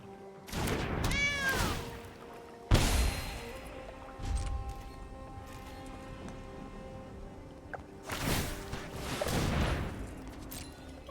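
Cat meows sound loud and close in Magic: The Gathering Arena, with no one talking. Sharp crashing game effects and bursts of impact sound come between them, and they end in a final swell of effects.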